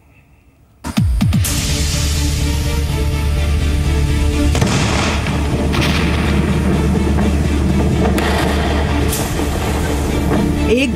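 A rocket carrying a Facebook satellite explodes at a U.S. launch site: one sudden, very loud blast breaks a near silence and then gives way to a continuous heavy roar and rumble that lasts to the end.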